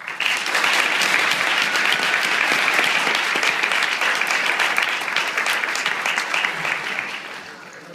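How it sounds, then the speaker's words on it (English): Audience at a police academy graduation ceremony applauds in a loud, sustained roar of many hands, holding steady for several seconds before tapering off. "Let's give these people a round of applause."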